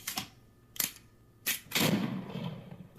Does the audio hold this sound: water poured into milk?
no